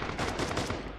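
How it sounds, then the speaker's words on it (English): Rapid machine-gun bursts ring out in a Red Orchestra 2 battle, loud and close, each shot crisp, in a dense and unbroken volley. "there comes the machine gun."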